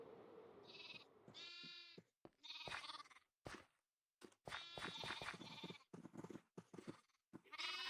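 Minecraft sheep bleating in-game, several short wavering bleats in quick succession, some overlapping, with brief gaps of silence between calls.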